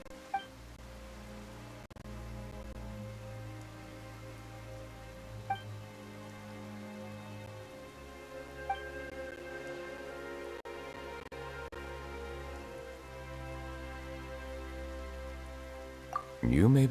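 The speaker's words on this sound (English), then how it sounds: "Why is it raining all of a sudden?" Rain falls steadily in the video game Genshin Impact, a soft continuous patter heard beneath sustained orchestral music, with a few brief clicks and a louder burst at the very end.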